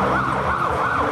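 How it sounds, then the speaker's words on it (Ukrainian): Police sirens wail near a cathedral at a Christmas celebration, a loud, steady rising-and-falling tone sweeping continuously up close before cutting off abruptly. "навперейми з колядою біля Софії починають вити поліцейські сирени"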